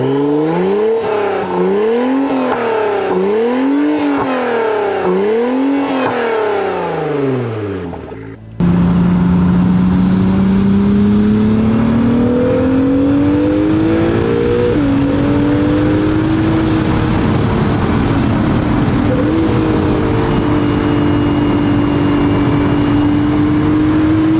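A 2017–2022 Acura NSX with an aftermarket downpipe revs hard through several rising and falling sweeps, then cuts out briefly before a sustained loud engine drone climbs steadily through the gears, no talking.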